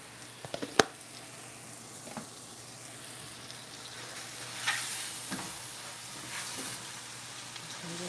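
Vegetables with thyme sauté in a pan for a vegan pot pie filling, giving a soft, even sizzle with a few sharp utensil knocks early on and occasional stirring scrapes.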